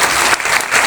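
Audience applause at a live motivational talk, a dense, steady wash of clapping from a crowd, loud and close, with no pauses across the short stretch.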